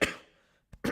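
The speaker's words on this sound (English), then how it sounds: "I gotta clear my throat." A short, harsh throat-clearing cough, followed after a brief pause by two more rough bursts.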